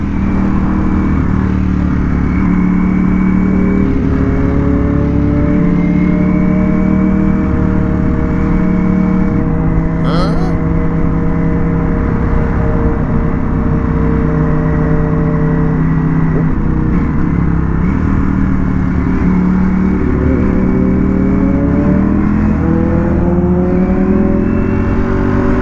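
Engine noise from a Ducati Panigale V4S superbike ridden through London city streets, close and loud, holding a steady drone with gear changes and revs rising and falling, joined by other vehicles in traffic.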